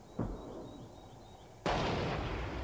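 Artillery shelling during fighting on a high plateau in Bosnia, with one sharp blast early on and a second, louder, closer boom that rumbles on afterward, no voices.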